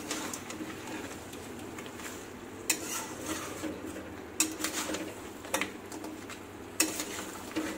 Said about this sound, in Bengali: এটাকে আমি আস্তে আস্তে করে কষাবো।